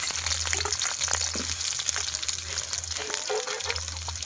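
Onions frying in mustard oil in a kadai give a soft, continuous sizzle with scattered pops, over a low steady hum that cuts in and out; no voices.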